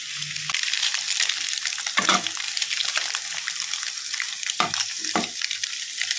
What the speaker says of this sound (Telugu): ఇలా వేగిన తర్వాత ఈ పచ్చ సొన ముక్కలు కూడా పైన వేసుకోవాలి ఒక్కసారి కలుపుకోండి